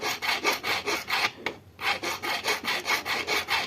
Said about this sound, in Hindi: इसी प्रकार से रेती पर ज्यादा जोर नहीं लगाया जाता है, हल्के हाथ से मारा जाता है।